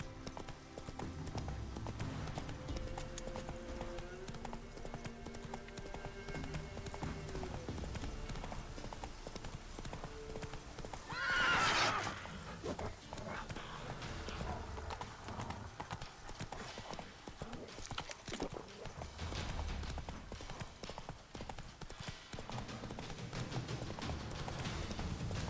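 Hooves of the horse Roach galloping in The Witcher 3, a steady clip-clop rhythm running through most of the passage alongside game music and ambience, with a brief louder burst near the middle and no talk.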